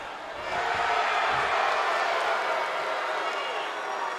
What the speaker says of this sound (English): The crowd acknowledging his handiwork.